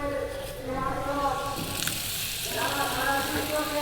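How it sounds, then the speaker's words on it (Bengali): Soybean chunks and potatoes fry in hot oil with a steady sizzle that runs throughout, broken by occasional stirring scrapes. "সোয়াবিন দিয়ে সোয়াবিনটা ভালো করে ভেজে নেবো আলুর সঙ্গে"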